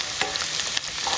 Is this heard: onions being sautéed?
yes